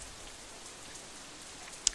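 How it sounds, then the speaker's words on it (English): Steady rain patters in the visual novel Katawa Shoujo, a soft even hiss of falling drops with one brief brighter tick near the end. "just listening to like the rain sound"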